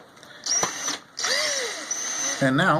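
A power drill drives a Tek screw into a steel fan shroud, two short bursts of whirring with a rising and falling motor pitch, close by, with someone talking briefly at the end.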